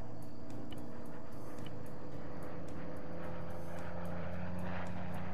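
A propeller aircraft engine in a Korean War video game drones steadily and loudly throughout, a continuous close roar with no talking.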